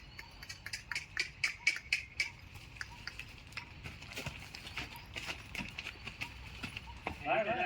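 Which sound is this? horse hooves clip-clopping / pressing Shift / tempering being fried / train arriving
horse hooves clip-clopping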